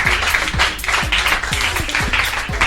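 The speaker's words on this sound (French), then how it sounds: "on peut applaudir tout ça" An audience at a community cabaret broadcast claps for two bands' performance, a short burst of fairly close, uneven clapping with a few distinct louder hand strikes.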